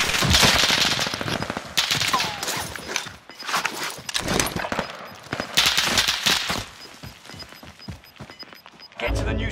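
Heavy automatic gunfire in the video game Warzone Pacific, loud, dense bursts repeating through the clip with brief lulls, mixed with sharp impacts and footstep-like clatter.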